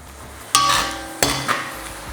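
A utensil stirs soy sauce and oyster sauce in a pan while cooking pancit bam-i, giving a few sharp scraping clinks against the metal, close and separated by short pauses.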